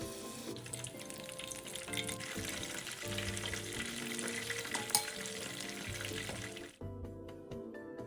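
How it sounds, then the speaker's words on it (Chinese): Shrimp fritters deep-fry in hot oil, giving a steady, close crackling sizzle that runs for several seconds and then cuts away near the end. "将油沥干净，再将剩余面糊勺入，以相同步骤油炸至完成。"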